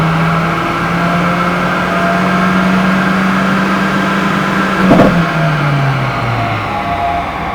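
A Volkswagen engine swapped into a Ford Escort revs steadily and loudly on a dyno, holding a sustained mid-pitched drone before a brief sharp burst near the end, after which the engine note sags and winds down.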